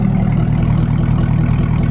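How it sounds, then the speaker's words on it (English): A Chevrolet Camaro ZL1 fitted with a Corsa Extreme NPP exhaust idles steadily, a loud, deep, lumpy rumble with an even pulsing burble that holds constant for the whole stretch, close by and with no voices. "Listen to that idle, bro."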